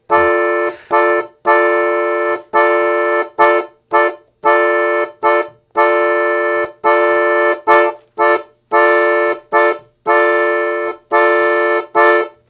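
Piano accordion chords pulse in short, repeated bursts with a syncopated bossa nova rhythm, loud and close, with no voices.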